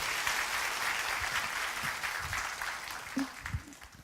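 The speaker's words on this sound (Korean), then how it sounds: "김혜수 목사님 다시 한번 여러분 뜨거운 박수 맞아주시기 바랍니다." A church congregation applauds a woman pastor during a Sunday worship service, a steady, dense wash of clapping that carries on evenly throughout and tapers slightly near the end.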